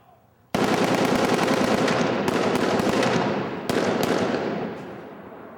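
Loud gunfire during a take of a film scene, a dense, sustained crackling burst of rapid shots that carries on for several seconds with a brief jolt partway through, and no speech.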